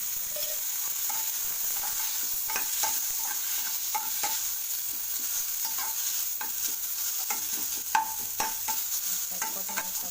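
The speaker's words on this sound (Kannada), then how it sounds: "ಸ್ವಲ್ಪ ಮೆಂತೆಕಾಳು ಹಾಕ್ಕೊಂಡು ಅದನ್ನು ಬಾಡಿಸ್ಕೊಳ್ತೀನಿ" Garlic, fenugreek seeds and coriander sauté in hot oil, a steady bright sizzle with scattered scrapes and clinks of stirring, up close and unbroken by speech.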